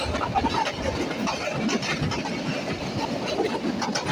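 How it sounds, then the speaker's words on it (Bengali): The Chitra Express, a Khulna-to-Dhaka train, rolls past close by on a double line, giving a steady loud rumble and rattle with faint wheel clatter and no pause. "দেখুন একবার ট্রেনটা কাছে এসে গেছে আমাদের"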